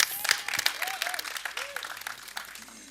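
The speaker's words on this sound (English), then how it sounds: "Ladies and gentlemen, one of the directors of our show, Abhinay Dio. Give him a round of applause." An audience at a TV series launch event applauds, with scattered clapping and crowd noise while some whoops and cheers rise over it.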